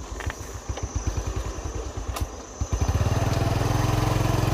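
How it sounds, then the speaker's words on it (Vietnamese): A bored pile drilling rig works at the Rạch Miễu 2 bridge construction site by a riverbank in Mỹ Tho, Tiền Giang. Its diesel engine chugs in a rapid, uneven rhythm, then settles into a loud, steady drone close by. "Khu vực ngoài đó thì đang khoan cọc nhồi"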